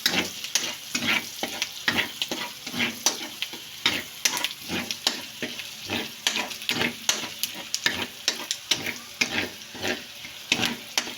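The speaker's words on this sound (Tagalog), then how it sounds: "Lagay ko na yung bawang at sibuyas. Pumuputok." Garlic and onion sizzle and pop in hot oil, a steady close frying hiss broken by a dense run of sharp crackles and spatters, with no talking.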